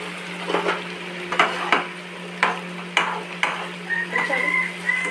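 Food frying and stirred in hot oil in a pan for a Bengali home meal, with a steady close sizzle and periodic scraping stir strokes, no talk.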